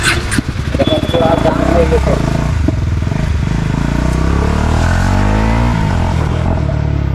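Fully modified black Husqvarna Svartpilen 250 motorcycle with an underbelly exhaust installed, its engine running loud and steady with rising and falling revs, close by, with someone talking over it.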